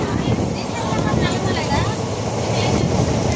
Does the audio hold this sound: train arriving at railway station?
yes